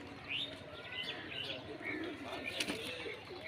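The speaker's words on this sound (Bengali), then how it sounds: "এই পায়রাটা দিল্লির পায়রা, দিল্লি বাজ, পিওর দিল্লি বাজ পায়রা" Delhi Baaz pigeons coo softly and faintly at close quarters, mixed with scattered chirps over a low, murmuring background.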